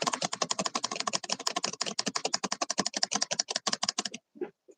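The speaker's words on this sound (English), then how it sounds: "I'm typing." Someone types a message on a keyboard in a fast, steady run of close, crisp key clicks that stops abruptly near the end, followed by a couple of faint soft sounds.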